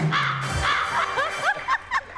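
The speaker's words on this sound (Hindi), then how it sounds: "कौवा चीख पड़ा।" A crow caws several times in short, harsh bursts, close and fairly clear, the calls coming quicker toward the end.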